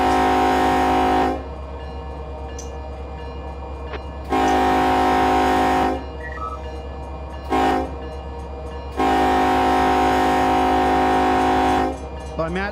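A locomotive horn on an SD40 engine in the Run 8 train simulator game sounds loud and close in long and short blasts, over a steady rumble of the train.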